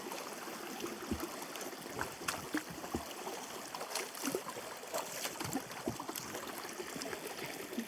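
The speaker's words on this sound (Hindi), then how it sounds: "हम लोग नदी क्रॉस कर रहे हैं और उस तरफ से ड्रोन तक पहुंचेंगे।" River water rushing and splashing over stones as people wade across a rocky, icy-cold stream, a steady broadband wash with scattered close splashes and footstep knocks, fairly quiet overall.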